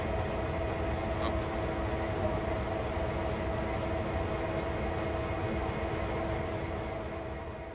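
Steady locomotive rumble from the Train Sim World video game, a continuous low mechanical drone with a humming tone, constant and moderately loud for the whole stretch, with no talk.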